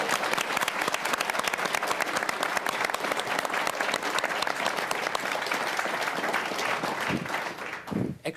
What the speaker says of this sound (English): Extra brownie points for all of your students back here who clapped